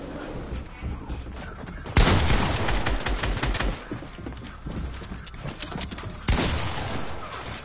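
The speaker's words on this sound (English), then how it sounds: "Stop using the quad launcher, it's so annoying." Rapid launcher fire in a video game, bursts of dense crackling blasts starting abruptly, a loud sustained volley followed by a second sharp burst later, close and forceful.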